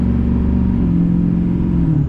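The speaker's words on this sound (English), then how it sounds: "The turbo whistle in this truck is insane." A Duramax 6.5 diesel pickup truck revving near the microphone at around half throttle, a steady loud engine drone with low rumble and a faint turbo whistle riding on top, sustained without pause.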